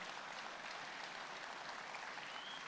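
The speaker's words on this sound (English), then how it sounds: "you got to give yourself a big round of applause for this" An audience applauding at a health-tech keynote event, a dense, even wash of clapping that holds steady and fairly soft for a few seconds.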